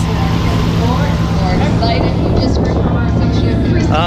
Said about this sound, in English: Back to doing some skids.